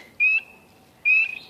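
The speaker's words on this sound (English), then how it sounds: "you can hear the frogs are still happy and healthy" Two short, bright, tonal calls spaced about a second apart ring out clearly in a quiet greenhouse, sounding like frogs calling, with no talking.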